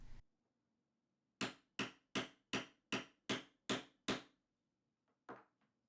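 A hammer strikes a chisel driven through a hardcover book cover, eight sharp, evenly spaced knocks in a quick steady rhythm, then one softer tap after a pause, close and clear against quiet.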